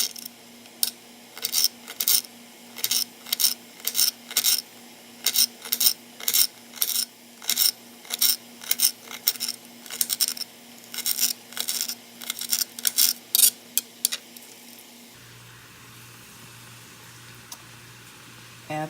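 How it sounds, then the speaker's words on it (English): A knife chops a celery stalk on a cutting board, giving a fast run of crisp, even knocks for about fifteen seconds, close and clear, then stopping into a low steady hum. Nobody talks. "Cut up a stalk of celery."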